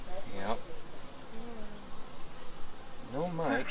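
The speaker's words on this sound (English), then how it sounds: "the youngest bees make wax" Honeybees hum in a steady, close drone from an open wooden hive with a third hive body added, while people talk over them.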